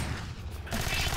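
A short burst of automatic gunfire in the co-op shooter game Alien Swarm, a quick rattling fusillade that fades briefly and then picks back up, moderately loud.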